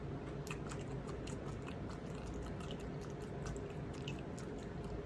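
Close, steady chewing with soft wet crunches and clicks repeating throughout, no talking.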